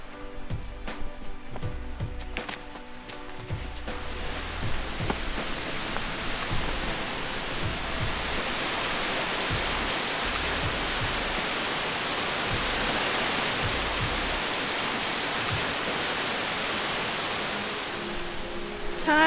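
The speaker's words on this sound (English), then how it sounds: "I hear running water." Broad, steady rushing of running water echoes inside a cave, growing into a continuous roar after a few seconds of footsteps and rustling, with no talk.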